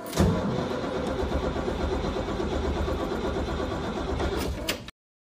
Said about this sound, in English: She can be hard to start on a cold engine, which is why I'm here early to get her to start.